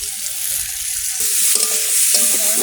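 Chilies fry in hot oil with a loud, continuous close sizzle, while a spoon stirs through the pan and adds scraping shifts in the hiss.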